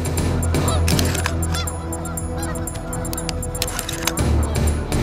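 Snow goose calls blown on an Illusion snow/blue goose call come in rapid, sharp honking yelps, loud and close, overlapping in quick bursts with a busy, flock-like rhythm and no talking.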